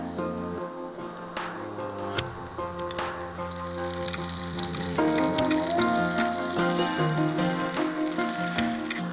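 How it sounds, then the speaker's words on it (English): Steady sizzling of food frying in hot clarified butter, crackling and popping continuously at close range, growing a little louder toward the end. "Kind of like deep frying in clarified butter."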